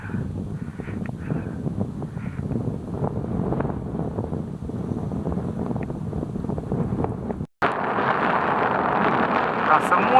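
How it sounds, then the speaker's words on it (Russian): Strong, steady mountain wind on the climb to Komsomolets summit in December roars across the microphone, rumbling low, then cuts out briefly before returning as a brighter, gustier rush. "Ветер крепчает"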